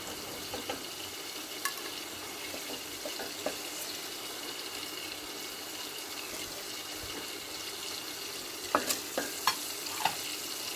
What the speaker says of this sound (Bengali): চিংড়ি মাছটা আমি ভেজে নিয়েছি, এবার তুলে নিচ্ছি।